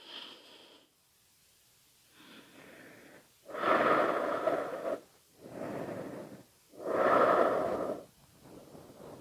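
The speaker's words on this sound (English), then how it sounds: "Breathing there." Slow deep breaths are taken during a gentle yoga pose, with audible airy inhales and exhales in a steady rhythm, close and fairly loud, with no talking.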